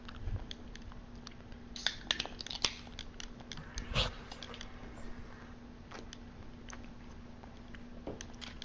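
Crunchy pickle chips being eaten close up, with irregular sharp crunches and bites scattered over quiet room tone, a few louder snaps standing out and no talking.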